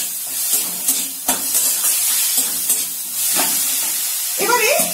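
Vegetable momo filling with spring onion and coriander sizzles loudly in a hot pan, with scraping stirs breaking through the continuous frying hiss.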